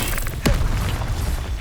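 An Incendio fire spell cast in Hogwarts Legacy: one sudden burst with a thudding low boom against continuous rumbling combat noise.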